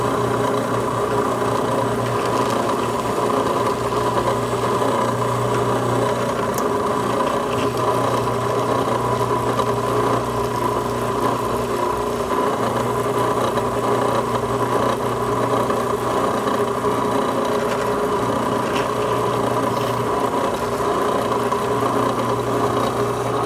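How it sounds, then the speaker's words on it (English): A drill bores a hole through a baseball with a steady, continuous motor whine and hum. It runs unbroken and close by for over twenty seconds, with no talk. "now we can go ahead and drill up the rest of the hole"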